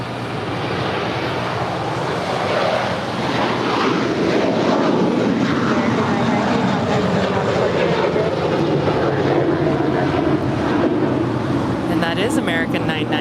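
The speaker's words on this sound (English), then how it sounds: "American 990 off to Atlanta, Georgia. 12-year-old A321." A 12-year-old American Airlines A321 jet takes off from LAX bound for Atlanta, its engines roaring loud and continuous as the noise builds and then holds, with a voice talking over it.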